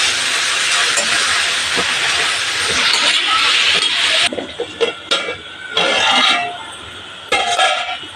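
Spinach sizzling and frying hard in a hot pan for a chutney, a steady loud hiss that breaks into shorter bursts of crackle as it cooks.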